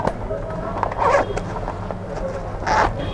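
A double zip on a ladies' handbag is pulled in two quick rasping bursts, close and fairly loud, over a busy wholesale market background with voices nearby.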